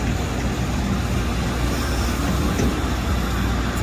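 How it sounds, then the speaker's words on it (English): Continuous loud rumbling roar of a big truck driving past at a construction site with diggers and dump trucks, dense and steady throughout with no speech. "There he is, this other big truck coming."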